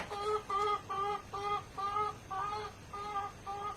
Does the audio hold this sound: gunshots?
no